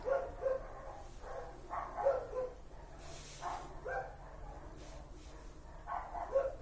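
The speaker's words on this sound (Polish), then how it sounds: "Kto tam szczeka? Pieski, tak?" Several faint dogs barking and yipping in short bursts from a distance, repeating irregularly against a quiet background.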